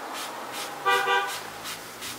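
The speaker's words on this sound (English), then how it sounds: "Car's going by outside." Car passing outside a room, a faint whoosh with a brief horn toot in the middle, distant and quiet.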